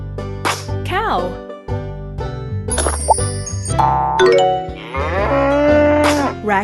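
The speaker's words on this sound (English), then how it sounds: "Cow." A cow moos among chiming jingles and cartoonish effects, while a voice talks in between.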